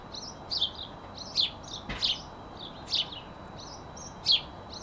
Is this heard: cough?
no